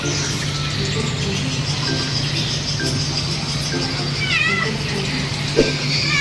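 A cat meows repeatedly while being bathed during grooming, its plaintive cries rising over a steady hiss of running water and background noise.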